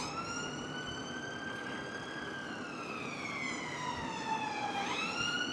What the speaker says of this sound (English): Off goes an ambulance there.